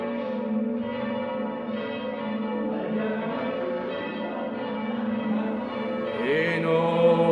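Church bells of Saint-Tugen ringing, a dense, steady wash of overlapping resonant tolls sustained throughout, moderately distant and unaccompanied by voices.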